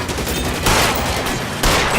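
Gunfire in the video game L.A. Noire, heard as loud, close bursts. Sustained crackling shots with two sharp volleys about a second apart.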